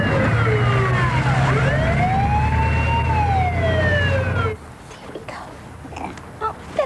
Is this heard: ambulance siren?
yes